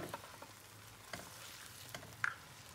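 Chicken fried with ginger and garlic in a pan for a Balochi chicken karahi gives a faint, steady sizzle, with a few soft stirring clinks and scrapes.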